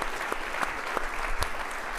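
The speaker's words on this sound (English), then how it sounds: "Dude gets a lot of claps because he deserves them" Audience applause at a university law open day lecture, a steady dense wash of clapping throughout with a few sharper individual claps standing out.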